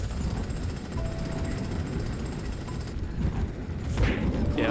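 An enemy drill grinds away in the video game Jak & Daxter, a continuous rough mechanical rattle that holds steady throughout, with a few brighter clanks toward the end.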